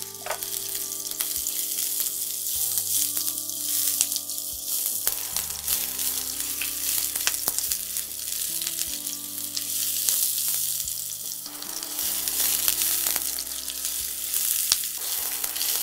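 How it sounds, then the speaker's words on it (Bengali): Onion and ginger frying in hot oil give a loud, steady sizzle with crackling bursts, close by and sustained throughout, with occasional stirring and no speech. "তেল গরম হয়ে এসেছে, এটাকে আমি ভেজে নেব"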